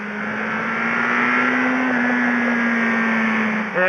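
An air-cooled four-cylinder exhaust on a 2013 Yamaha XJR1300 motorcycle drones steadily at high revs, close and loud, then blips sharply higher right at the end.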